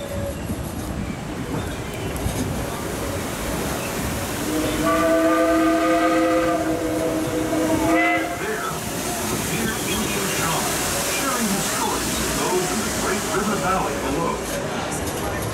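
Disneyland theme park train rolling along the rails, a steady close rumble and clatter with a loud horn or whistle sounding for a few seconds midway, a voice speaking over the ride.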